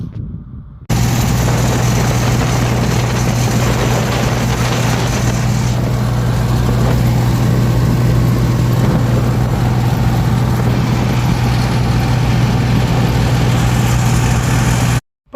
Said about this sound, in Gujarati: જુઓ ને ટ્રેક્ટરની ખાલી સ્પીડ જુઓ।